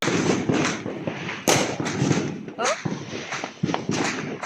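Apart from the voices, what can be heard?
fireworks and firecrackers exploding at New Year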